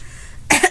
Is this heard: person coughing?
yes